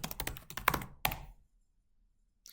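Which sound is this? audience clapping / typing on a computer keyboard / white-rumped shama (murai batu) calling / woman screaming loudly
typing on a computer keyboard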